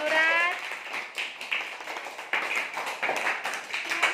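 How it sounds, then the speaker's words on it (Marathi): A group of young children clapping their hands in a classroom-like setting, a quick burst of uneven, fairly close claps with a voice speaking at the start. "टाळ्या वाजवा"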